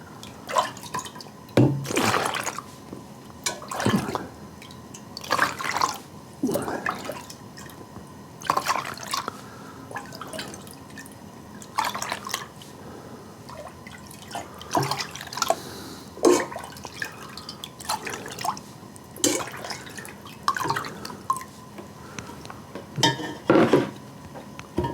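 Brandy slush liquid splashes and trickles into containers in short bursts, with gentle clinks of dishware between pours, quiet and close.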